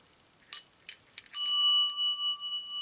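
An elevator bell, a salvaged part unboxed among other lift components, rings in three quick separate strikes, then a fourth hit that lingers in a long, clear metallic ring fading slowly; close and alone.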